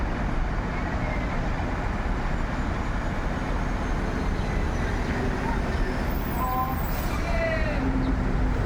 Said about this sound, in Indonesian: Diberangkatkan satu unit bus MPM menuju Ranah Minang